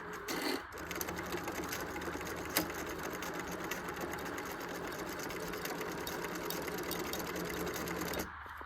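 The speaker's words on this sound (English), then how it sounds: "I'll show you real quick how I do the free motion stitching for that part" Sewing machine running a medium-length straight stitch with a free motion foot, a continuous close mechanical whir that holds steady for several seconds before stopping, with no talk.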